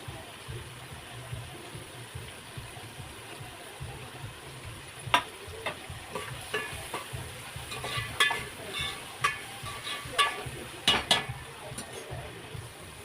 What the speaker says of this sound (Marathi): टमाटो सुद्धा तेलामध्ये परतून घ्यायचे